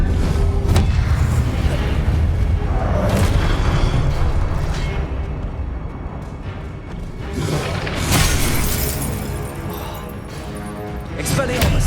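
The Expelliarmus spell is cast repeatedly in the game Hogwarts Legacy, producing loud, dense booming bursts and rumbling magical impacts that fill the whole stretch with heavy, continuous sound.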